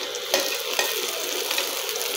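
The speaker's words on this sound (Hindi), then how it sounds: "प्याज को मैं फ्राई कर रही हूँ।" Onions fry in hot oil in a wok, a continuous bright sizzle close by, broken by a few sharp crackles and stirring clatters.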